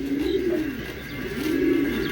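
Two racing pigeons give low, throaty coos in two rounded phrases separated by a short gap, close and fairly steady, with no voices.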